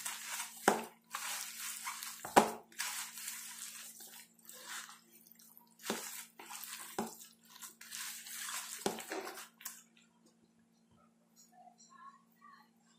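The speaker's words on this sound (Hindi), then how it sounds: "अभी हम इसको अच्छे से मिक्स कर लेंगे।" Potato, onion and spinach pakoda batter is being mixed with a little added water, giving quiet wet squelches and slaps in irregular bursts that fade to near silence at the end.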